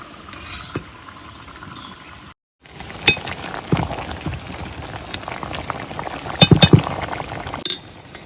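River clams bubble in a covered pot on a village stove, a steady wet simmer dotted with small clinks and pops that grow busier toward the end, with no talking.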